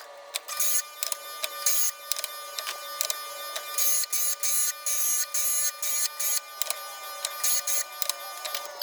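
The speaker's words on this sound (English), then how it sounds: "I turn my grinder on and I start shaving off each side" An electric grinder shaves metal off a lawn mower blade to balance it, a faint buzzing drone broken into rhythmic, repeated short grinding passes, close and alone without talk.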